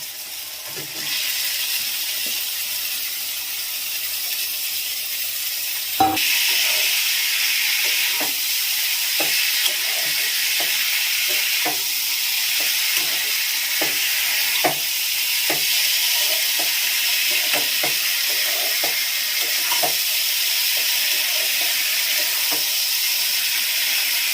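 Boiled banana flower frying in a cooked spice paste, giving a steady close sizzle and hiss with frequent soft scraping stir strokes and a sharp clank early on.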